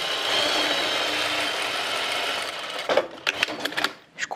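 A sewing machine stitches a strip of scrap fabric, a long steady whirring run that stops, followed by a few short uneven bursts of stitching close by.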